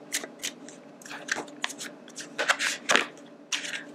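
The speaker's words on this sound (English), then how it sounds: "just giving it one quick shuffle" Tarot cards riffle and slide in quick, crisp bursts, a close-up run of papery shuffling snaps with brief pauses between them.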